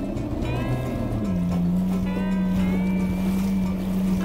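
A wave runner personal watercraft crosses Eagle Harbor in Door County, Wisconsin. Its engine gives a loud, continuous drone whose pitch rises and then holds steady, with wind and water noise throughout.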